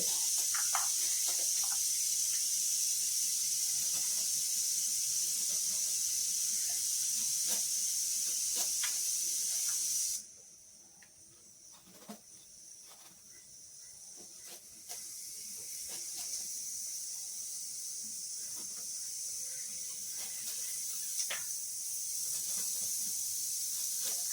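A pressure cooker steaming sambar vegetables gives off a steady, high-pitched hiss that runs loud for about ten seconds, then drops abruptly to a softer, continuing hiss with faint clicks and knocks in the background.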